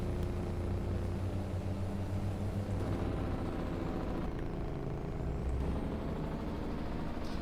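A heavy truck in Farming Simulator 22 rumbles steadily with a deep, droning retarder-braking growl, loud and continuous, with faint hisses and shifting tones throughout.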